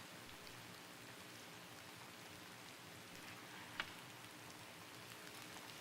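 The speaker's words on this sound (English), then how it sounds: "It's raining really hard outside." Heavy rain falling outside, a steady dense hiss of drops on surfaces heard from indoors, even and unbroken apart from one brief sharp tick.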